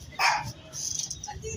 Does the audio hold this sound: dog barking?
yes